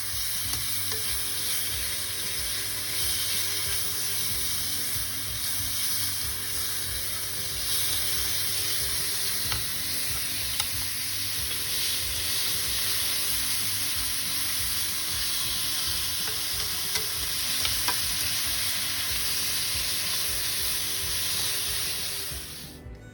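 Thinly sliced beef frying in a hot pan, a loud continuous sizzle and crackle with steady spattering that holds for the whole stretch, no voices.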